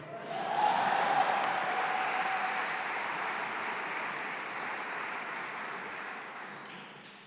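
Applause from a large audience at an MBA graduation ceremony, a dense wash of clapping that swells quickly and then holds steady before slowly tapering off.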